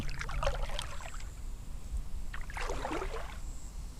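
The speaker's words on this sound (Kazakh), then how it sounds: "Қайыққа отырайық, кетейік." A rowing boat moves on river water near a village, with two swelling splashy oar strokes a couple of seconds apart, close by, over a low steady background rumble and no talk.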